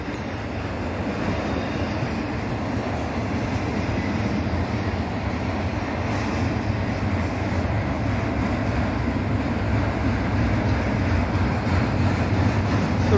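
A Norfolk Southern freight train of mixed containers and piggyback trailers passes close by under a street bridge, giving a steady, loud rumble of rolling cars and wheels that holds constant throughout with no break.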